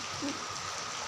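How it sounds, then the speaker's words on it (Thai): Rain falling steadily outdoors, a dense, even hiss of drops on surfaces that holds at a constant moderate level for the whole moment, with no voice over it. "ขออภัยด้วยถ้ามีเสียงฝน"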